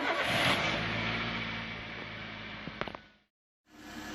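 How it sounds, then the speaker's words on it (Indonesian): A Toyota Avanza or Daihatsu Xenia engine cranks and starts in a garage during brake master cylinder work, a loud broadband roar with a few sharp clicks near the end, then a brief silence before idle noise returns. "Nyalakan mesin untuk memulai kinerja remnya."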